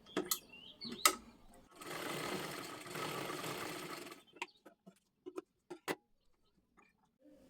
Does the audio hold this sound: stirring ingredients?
no